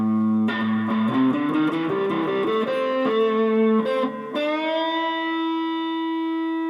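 A Tease Guitars ST 1 Strat-style electric guitar rings out clean single notes played up the neck, ending on a sustained chord that slowly decays, with no talk.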